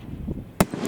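A single firework shell bursting, a gold willow breaking to purple and green glitter, heard as one sharp, fairly loud crack that rings briefly before fading.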